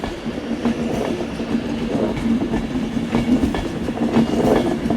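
A refurbished train unit runs through Manchester Piccadilly station with a steady, loud rumble and faint rhythmic wheel clatter lasting throughout.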